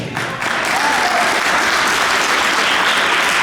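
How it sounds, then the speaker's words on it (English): Audience applause greeting a speaker on an online TV programme, a loud, dense burst of clapping that swells in the first half-second and then holds steady, alone without talk. "Please, round of applause for Mama Kay."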